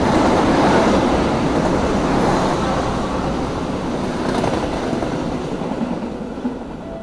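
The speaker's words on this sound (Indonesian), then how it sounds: "itu kereta api Joglo Semarkerto yang ngelup dari arah Solo Balapan" The Joglosemarkerto passenger train rolls through Karanganyar station in a loud, continuous rumble with wheel clatter, staying close and steady for the whole stretch and fading only slightly, with no voices over it.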